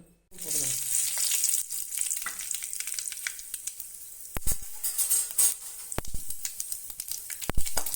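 Fenugreek and mustard seeds hitting hot oil for a Tamil fish kuzhambu, starting with a sudden loud hiss after a brief silence, then a steady close sizzle with sharp pops and crackles scattered throughout.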